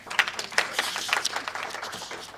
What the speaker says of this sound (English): Give her a round of applause, everybody.